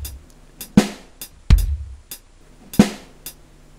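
Sparse drum kit hits on snare and kick, a few sharp strikes spaced unevenly, close and dry with no talk.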